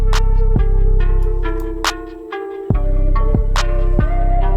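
Long 808 bass sample played in Ableton Simpler: deep booming bass notes with sustained low tails and a rhythmic pattern of crisp hi-hat and percussive hits over it, loud and close, with a short dip mid-pattern.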